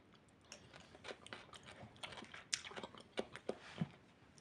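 Close crunchy chewing of pickled cabbage, a series of small crisp bites and crunches in an uneven rhythm, fairly quiet.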